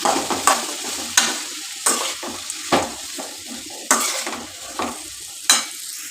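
Onions sautéing with rock salt for mutton curry, a steady sizzle punctuated by regular scraping stirs and knocks of a spoon against the pan, close and clear with no talk.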